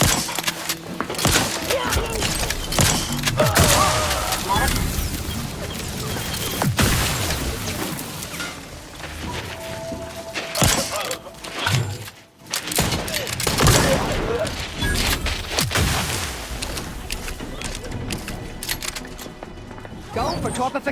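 Rapid gunfire bursts and booming impacts in the sci-fi video game Outer Worlds 2, loud and dense across the whole stretch, under frequent synthetic voice lines and combat chatter.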